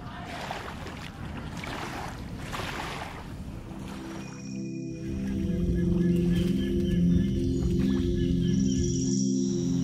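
Open sea and beach ambience on the shore at Coney Island, Singapore, with a steady wash of wind and surf, then a hum from a passing boat engine rising and holding over the last several seconds.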